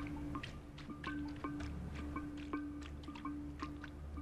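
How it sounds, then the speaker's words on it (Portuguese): Falling water drips in the video game Stray, many small irregular drops plinking close by at an uneven pace over a steady low ambient hum. "é água caindo"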